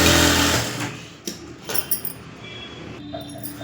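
A sewing machine stitches a fused blouse neck design, running in a rapid whirring burst at the start, then stopping and giving way to light clicks and small handling sounds.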